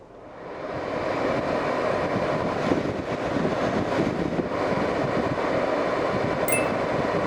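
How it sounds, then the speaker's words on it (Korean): A steady broadband rush of air blows from the air conditioner of a Chevrolet Spark (The New Spark), rising in the first second and then holding evenly with no talking. "에어컨 아주 잘 나오고 있습니다"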